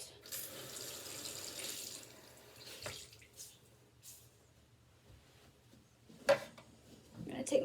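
A tap runs briefly while an AOA Studio makeup sponge is wetted, a soft, close stream of water fading after a few seconds, followed by quiet handling noises.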